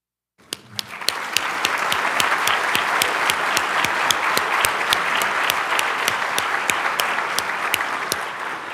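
An audience at a stethoscope and commitment ceremony applauds active-duty service members and veterans, beginning with a few sharp claps and then swelling into sustained, dense applause across the hall.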